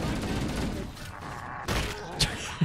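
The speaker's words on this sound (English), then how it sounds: "Who needs to aim when you can just unload this many rounds?" Rapid, sustained gunfire from a weapon emptying many rounds in Halo: Combat Evolved. It plays as dense, continuous bursts at steady volume, with a couple of sharper impacts near the end.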